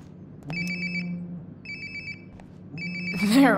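A mobile phone rings nearby in the video game Life is Strange: Before the Storm, sounding as three bright, repeated electronic ringtone bursts separated by pauses over a low room drone.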